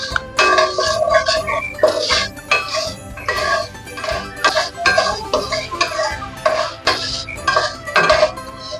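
Coriander, cumin and fennel seeds dry roast in a pan without oil over a low flame, with brisk, rhythmic clinks and scrapes of a metal spoon against the pan, close and loud.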